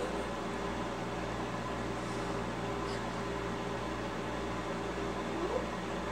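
Steady, even hum of a microwave oven running while heating a bar of soap, a constant droning whir with no change over several seconds and no voices.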